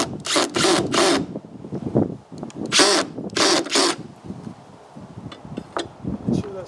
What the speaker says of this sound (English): I'm going to quickly just drill a couple of holes.